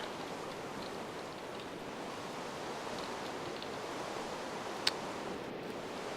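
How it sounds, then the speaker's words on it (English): Steady rain pours in a video game adventure map, a constant broadband hiss from start to finish with one brief sharp tick near the end and no voices. "Yeah, it's raining again."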